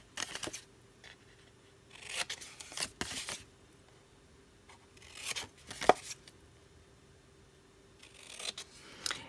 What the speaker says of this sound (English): I'm going to take my scissors and cut up to the score line on all 4 corners